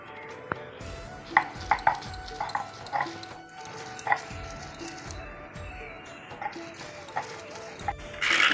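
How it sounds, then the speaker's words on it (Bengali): Boiled banana flower being ground by hand makes uneven, rhythmic soft knocks and squishy thuds, close by and moderately quiet, with a few louder strikes scattered through. "সিদ্ধ করা মোজাটা এখন আমি বেটে নিব"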